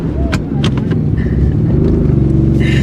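A Nissan 370Z engine runs with a steady, deep, close-up drone that swells slightly, with people talking over it throughout.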